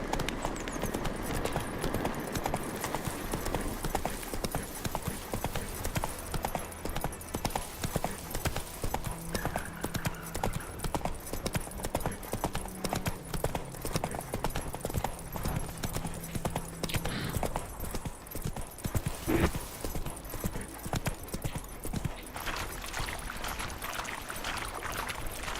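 A horse galloping in The Witcher 3 Wild Hunt, hoofbeats pounding in a rapid, continuous rhythm for a long stretch over game music and ambient noise, with an occasional whinny.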